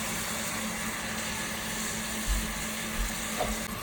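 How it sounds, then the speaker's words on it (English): Chicken pieces sizzling in a pot for Trinidadian brown stew, a steady low frying hiss with a couple of soft stirring knocks, close and moderately loud, no voices. "So I'm going to put the chicken in right now."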